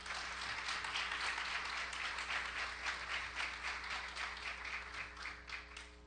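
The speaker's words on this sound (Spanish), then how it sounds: "para quien pido un aplauso." At a formal regional electoral court event, the audience applauds Magistrate Enrique Figueroa Ávila, a faint, even patter of many hands over a low steady hum, gradually thinning toward the end.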